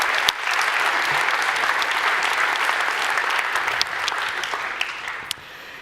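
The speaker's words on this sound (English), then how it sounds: "So if we can give a quick round of applause to CloudBees." Steady audience applause fills a keynote hall at a DevOps and Jenkins conference, a dense wash of clapping that holds for several seconds and thins slightly near the end.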